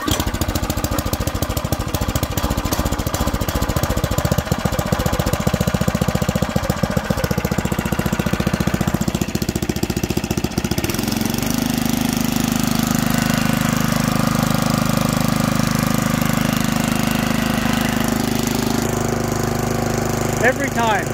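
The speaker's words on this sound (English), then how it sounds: "This never fails to start. This is an amazing tiller." Craftsman garden tiller engine running loud and close, a rough rattling drone that shifts to a steadier lower note partway through, with a voice speaking over it.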